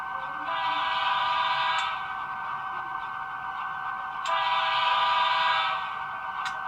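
An N scale Dash 8 model's sound module plays a passing train horn Doppler sequence: two long sustained blasts a few seconds apart over a continuous droning tone, swelling and easing as it passes.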